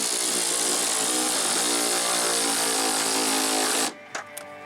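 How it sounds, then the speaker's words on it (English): Power tool whirring steadily as bolts on a Jeep Grand Cherokee lift kit are tightened in a Compton shop, loud and continuous for about four seconds before cutting off, followed by a couple of faint clicks. "Torquing them with a snap-on. And he's gonna use the ratchet."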